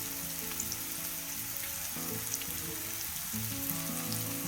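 Vegetables and vermicelli fry in a pan on a low flame, giving a soft, steady sizzle with faint crackles throughout and no talking.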